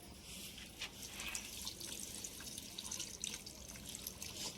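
Water poured from a container onto garden plants, a quiet, continuous splashing and trickling with faint drips, steady throughout with no talk.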